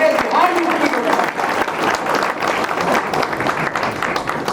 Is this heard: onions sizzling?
no